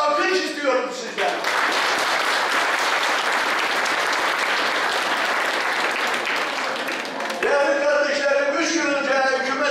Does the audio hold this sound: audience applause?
yes